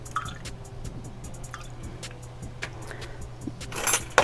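Distilled water poured into a container for a homemade foaming face wash, with soft trickles and drips over a low steady hum, ending in a few louder splashy knocks.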